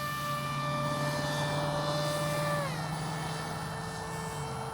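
An RC model airplane takes off under power. Its electric motor gives a loud, steady high whine with harmonic tones that drop in pitch partway through as it moves off, all close and continuous.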